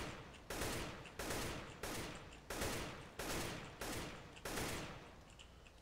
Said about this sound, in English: This is an even better weapon to show, because the AK is very inaccurate as usual.